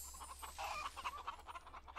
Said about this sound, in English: Yes, harvest and feed the chickens.